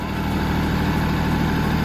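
A borrowed tractor engine idles steadily up close, a constant low, throbbing rumble with no breaks and no voices.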